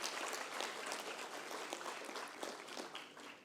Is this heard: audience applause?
yes